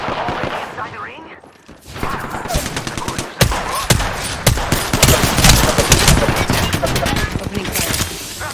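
Gunfire in a battle royale shooter game, rapid automatic bursts and sharp shots crackling loudly and almost continuously after a brief lull, mixed with game sound effects and some talk.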